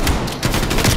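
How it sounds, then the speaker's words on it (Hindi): Gunfire in Call of Duty Cold War on the Nuketown map, a rapid burst of loud shots from a shotgun, close and dense, with no talk over it. "शॉटगन के साथ एक एक किल्स वन शॉट वन किल"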